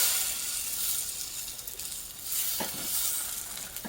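French toast sizzling in a frying pan after being flipped, a steady bright hiss of frying with a couple of soft thuds from the turning slices.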